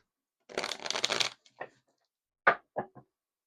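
A deck of tarot cards is riffled in one quick shuffle, then a few soft taps and snaps as the cards are squared up, close and quiet.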